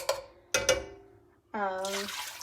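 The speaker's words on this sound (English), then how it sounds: "So what I'm gonna do now is add some water to this." Water splashes into a pan of dark roux for crawfish étouffée, a short close pour after a few clinks of a utensil against the pot.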